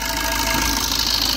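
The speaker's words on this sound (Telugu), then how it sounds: "ఇంజన్ నాయిస్ చాలా స్మూత్గా అయితే ఉంది." A 2013 Maruti Suzuki Swift Dzire VDI diesel engine idling, a steady close mechanical hum and clatter with an even drone and no voices.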